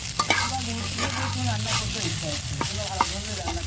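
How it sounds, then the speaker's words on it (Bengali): Curry leaves frying in a pan with oil, a steady sizzle with scraping stir strokes and clinks throughout, close and moderately loud, no talking. "কারি পাতা দিয়ে একটু ভেজে নিচ্ছি"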